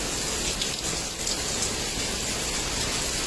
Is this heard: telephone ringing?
no